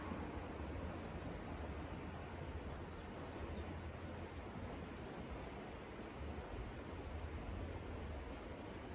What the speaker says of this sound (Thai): น้ำไหลเชี่ยวอยู่ด้วยค่ะพี่น้อง